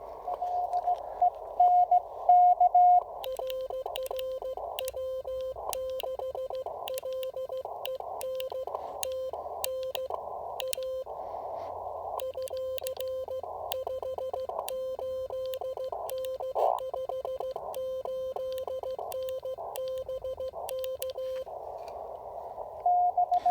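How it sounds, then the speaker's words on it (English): A buzzy electronic Morse sidetone from an Elecraft KX3 radio pulses in a rapid on-off pattern through a loud, slightly distorted speaker at full volume, with steady hiss and no talking. "This sounds a little weird on here, the buzzy speaker, because I've got the volume cranked up all the way."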